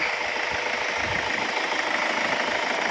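A Hyundai H1 van's engine idles in a steady, even rumble with a slight knocking texture, heard up close and with no one talking.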